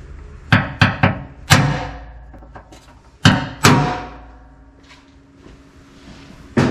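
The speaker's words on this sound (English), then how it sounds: "use a center punch." A center punch struck sharply against a metal bracket for mounting a coolant reservoir in an LS swap, giving a series of loud, close metallic taps in two bursts with short ringing decay between.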